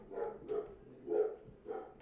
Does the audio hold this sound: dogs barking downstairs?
yes